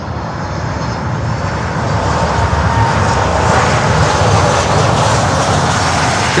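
A Caribbean Boeing 737 jet airliner roars steadily at Miami airport, a loud, sustained broadband engine noise filling the whole stretch with no talk.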